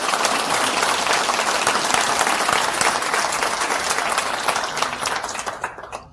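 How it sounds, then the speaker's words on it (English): Full audience applause for a doctor at a Parkland trauma room reunion event in Dallas, a dense, loud, steady roar of many hands clapping that holds for several seconds and thins out at the very end. "Ladies and gentlemen, a round of applause, please,"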